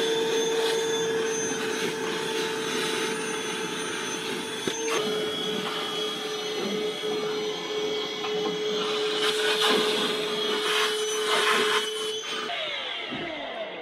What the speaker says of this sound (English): you're using a sweeper in the ice machine